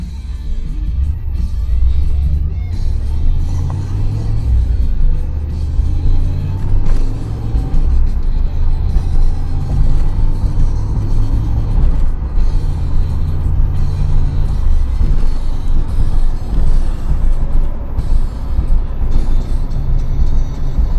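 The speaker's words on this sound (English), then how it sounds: "Stereo off so you can hear the motor a little bit better. Again, this was a cold start." A 1987 IROC car engine runs after a cold start with a deep, steady, loud low rumble that holds unbroken throughout, heard close without talk.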